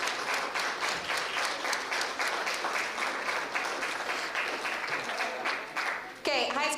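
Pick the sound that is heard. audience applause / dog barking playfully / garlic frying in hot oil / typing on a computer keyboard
audience applause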